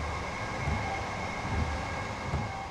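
A train in Train Sim World on the East Coastway line runs at speed, giving a continuous steady rumble and hum with faint rhythmic thumps from the track.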